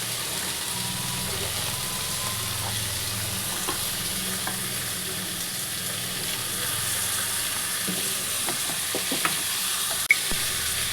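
Potato and pointed gourd curry with coconut sizzles steadily in a pan after a splash of bowl-rinse water, a continuous close bubbling hiss with faint stirring, no voices.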